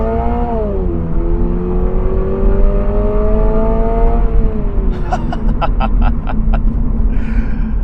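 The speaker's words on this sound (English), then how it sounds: "Turn off the traction and let these guys go ahead. Then we're gonna floor it. There, wheel spin." A 2022 Subaru BRZ with traction control off is floored into wheel spin, its engine revving loud and close in a rising then steady drone, with a quick series of sharp gear-shift or tire chirps near the end.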